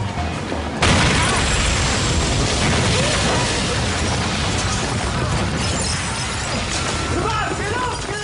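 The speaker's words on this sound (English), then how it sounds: "Remember when they blew up the joinery?" A joinery is blown up as a TV soap stunt: a sudden loud blast followed by a sustained roaring, crashing rumble of debris that stays dense and heavy for several seconds.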